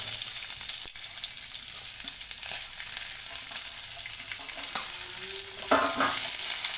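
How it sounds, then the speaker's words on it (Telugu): Onions, green chillies and dried red chillies frying with lentils in a pan, with a bright continuous sizzle and occasional spatula scrapes and taps close by. "ఇవి కొంచెం ఉల్లిపాయలు బాగా వేగాలి దోరగా."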